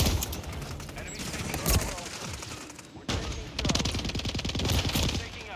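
Rapid automatic gunfire from an STG44 rifle in Call of Duty Modern Warfare III multiplayer, loud dense volleys nearly filling the clip with a short break midway and a shouting voice mixed in.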